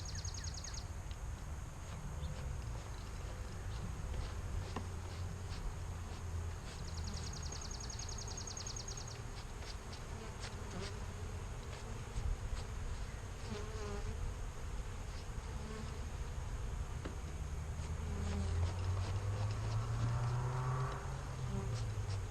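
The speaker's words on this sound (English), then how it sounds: "let's see about getting these bees off of here now" Honey bees buzz on a hive frame during queen rearing, a dense, continuous hum of many insects close by, with individual bees droning louder as they pass, and no speech.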